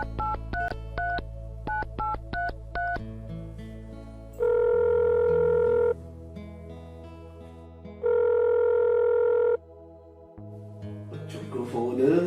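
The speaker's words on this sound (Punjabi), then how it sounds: "ਕੋਈ ਨਹੀਂ, ਆਪਾਂ ਡਾਇਲ ਕਰ ਲੈਂਦੇ ਆ।" A telephone is dialed with a quick series of short keypad tones, then a long steady dial tone sounds twice with a pause between, followed by a brief burst of rustling noise at the end.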